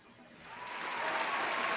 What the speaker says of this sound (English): Everybody, please give a big round of applause for our friend